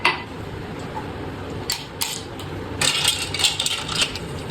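Ice cubes clink and rattle into a glass or jug while cold coffee is being made, in a few sharp clattering bursts with a denser scrape of ice toward the end.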